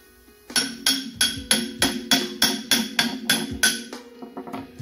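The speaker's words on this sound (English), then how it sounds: "If it doesn't want to slide right on, then just tap it with a hammer a little bit." A hammer taps a GMC Envoy front suspension part during a strut replacement about a dozen times in a steady rhythm, each blow a bright, ringing clink, close by, with a faint hum underneath.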